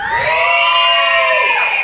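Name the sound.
crowd of children shouting and cheering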